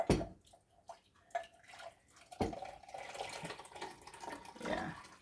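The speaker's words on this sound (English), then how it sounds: "I'm gonna have to be careful pouring it out" Homemade heavy cream pours from a pot in a soft, uneven liquid trickle with small splashes and drips, faint and close, with no voices.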